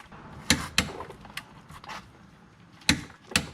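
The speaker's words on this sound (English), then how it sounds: "This is a 21mm. It's going to be torqued to 90 foot-pounds." A torque wrench tightens a 21mm bolt on a Dodge SRT Hellcat differential during a Per4mance DIRS diff install, giving sharp ratcheting clicks and creaks in uneven bursts, close up and moderately quiet.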